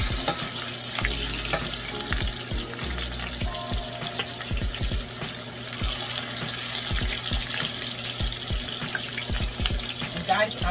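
Seasoned organic oxtail pieces browning in a hot pan for Jamaican stewed oxtail, a continuous loud sizzle with scattered pops and crackles and occasional scraping and clinking of utensils, close by and without talking.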